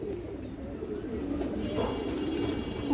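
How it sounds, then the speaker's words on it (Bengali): A single male Muslodom pigeon coos close by, a low repeated throaty rumble that carries on continuously, with faint higher chirps in the background. "একটা সিঙ্গেল মুসলদম নর কবুতর"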